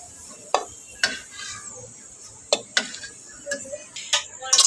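Snack pellets shaped like little shells frying and puffing up in hot oil, heard as a steady faint hiss broken by several sharp crackling pops at irregular intervals, close by, with no talk.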